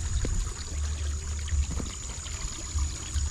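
Water pours steadily into a nearly full mini fishpond built for catfish fingerlings, with the water close to reaching a PVC pipe; a continuous close rushing and trickling with a low rumble underneath and no talking.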